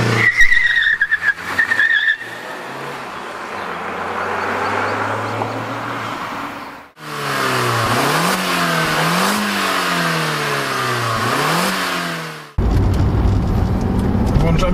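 An Audi A3 1.8 turbo pulling into traffic, its engine revving loud and close through rising gear pulls with shifts, someone talking over parts of it.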